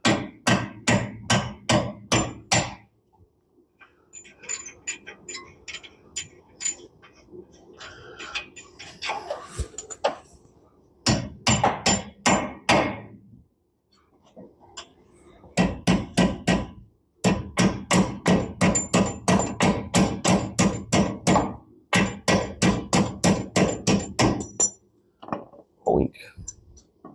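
Someone hammers on a Jeep in rapid bursts of sharp metallic strikes with short pauses in between, up close and loud, and a few spoken words come between the bursts.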